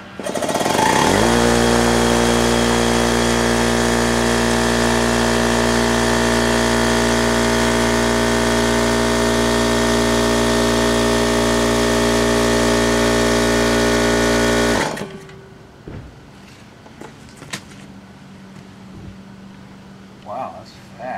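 A Porter Cable CPF234000S air compressor starts up and runs loud and steady, with a constant motor drone as it builds pressure for about fourteen seconds, then cuts off abruptly, leaving quieter background noise and someone speaking.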